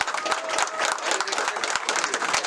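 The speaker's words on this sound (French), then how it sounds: "et on peut l'applaudir" At a New Year's wishes event, an assembled audience gives a short round of lively applause for Frédéric Allais, dense clapping with a few individual sharp claps standing out near the listener.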